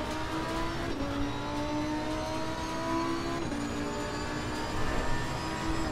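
Race car engine in Assetto Corsa Competizione, played on PS4, droning and shifting pitch as it accelerates through gears, with faint rattles and tire whir under a constant, close cockpit roar.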